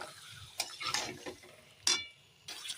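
Spiced chicken pieces are stirred in a pot, several scraping and clinking strokes of a spoon against metal over a soft sizzle, close by and moderately quiet, with no voices.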